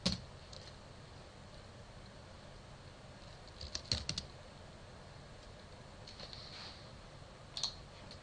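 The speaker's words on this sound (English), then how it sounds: "You can just start typing in the first few letters of the company name." Steady, close computer keyboard typing while entering a company name into a load-management web tool, soft rapid clicks over a constant hiss with a few louder key strikes.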